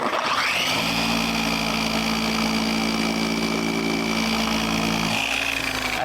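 A machine polisher spins up and runs on the neglected paint of a Jeep, a loud, steady motor whine with a rising start and a slight pitch shift near the end, close and continuous, with no talk.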